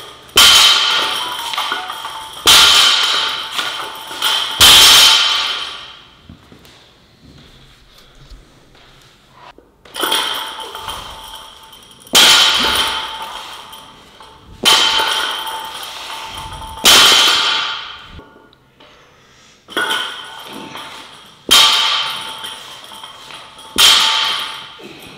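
A loaded barbell clangs and thuds down onto a one-inch raised platform in deadlift reps, sharp metallic impacts in clusters of three with ringing decay and quiet gaps between.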